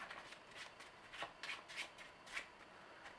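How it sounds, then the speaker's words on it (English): A deck of playing cards being shuffled by hand for a tabletop game of Legendary Encounters: Alien, with a run of soft riffling bursts and flutters about every quarter to half second, close and fairly quiet, with no talking. "So I will just shuffle these and draw 2 randomly and see which 2 we will get."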